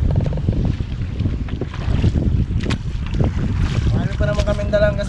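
Strong northeast monsoon wind buffets a small fishing boat at sea, a continuous loud rush of wind and water noise close to the microphone, with a voice speaking briefly underneath.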